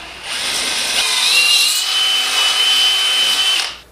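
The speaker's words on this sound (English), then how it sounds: "now I'm just going to go through and drill all these out so the screws will go through" A power drill whirs steadily for a few seconds, a high continuous buzz that rises and holds before winding down, close by with no talking.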